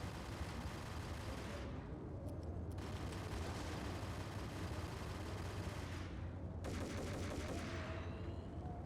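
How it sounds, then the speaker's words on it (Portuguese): Dense, continuous gunfire in the video game Max Payne, loud rapid bursts that drop out briefly twice before resuming. "Ela tá atirando com medo"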